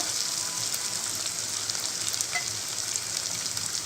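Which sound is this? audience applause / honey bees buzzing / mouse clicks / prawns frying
prawns frying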